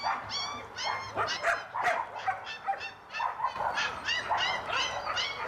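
Several dogs at an animal shelter bark and yip repeatedly at a moderate distance, overlapping in an uneven, excited chorus with some whimpering.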